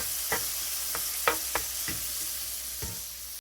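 Garlic sizzling in butter in a pan for garlic butter salmon, a steady hiss of frying broken by a handful of sharp scraping knocks from stirring, close and fairly quiet, with no talk.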